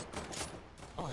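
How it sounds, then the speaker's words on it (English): A rapid burst of sniper rifle fire in the Fortnite video game, faint and short, with a voice talking over it. "Sniper rifle."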